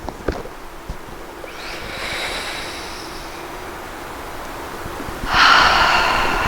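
Breathwork exhalations pushed out through the mouth: a soft, airy rush of breath swells midway, fades, then a stronger, louder exhale arrives near the end, close and without talk.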